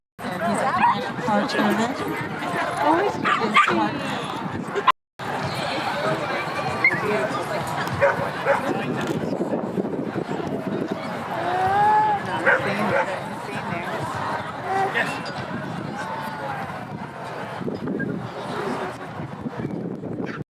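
A dog at a community dog festival in Somerville barks and yips amid a busy crowd, its short calls rising over steady chatter and voices nearby.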